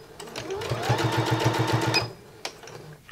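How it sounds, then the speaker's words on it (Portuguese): Sewing machine stitching the finishing seam around a fabric door-holder piece, a fast steady mechanical chatter for about two seconds, then stopping with a few faint clicks and handling sounds. "Tô fazendo a costura de acabamento em volta de toda a peça."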